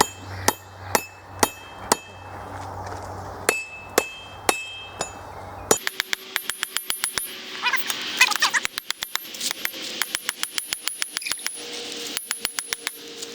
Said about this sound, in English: next I'm going to hit it with the peen part, the straight part of that, and try to bring this end down just a little bit